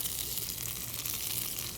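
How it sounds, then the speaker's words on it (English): Food sizzles lightly in hot oil, a steady, close crackling hiss that holds even throughout, with no voices. "You just want that little light sizzle to it."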